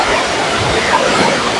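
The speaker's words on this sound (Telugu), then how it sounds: "చూడండి మా నల్లరాయగూడ వాటర్ ఫాల్స్" Nallarayi Guda waterfall in Bhamini mandal roars with a steady, loud, unbroken rush of falling water close by, filling the whole moment without pause.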